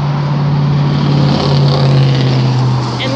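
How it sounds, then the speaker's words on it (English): A loud vehicle engine rumbles close by outside near a front porch, a steady droning roar that swells slightly in the middle and then eases off. "And lots of loud cars today."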